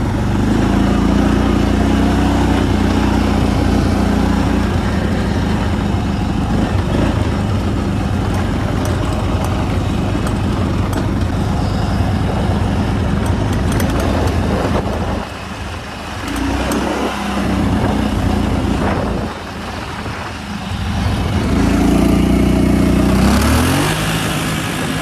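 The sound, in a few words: Kawasaki Brute Force 750 ATV engine during a ride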